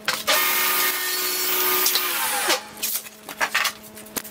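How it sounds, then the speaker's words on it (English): A bandsaw cuts a wooden piece along a curved contour to shape a dust scoop handle. The loud, steady, high whine and rasp of the blade run close and continuous for a couple of seconds, then stop, leaving scattered workshop noises. "follow the contour on a bandsaw"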